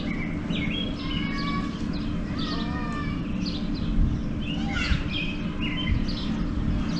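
Newly hatched Himalayan monal chicks at a zoo exhibit give repeated thin, high chirps and peeping calls, scattered and fairly close over a steady rumbling background.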